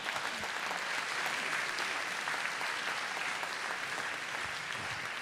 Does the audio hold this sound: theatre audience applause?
yes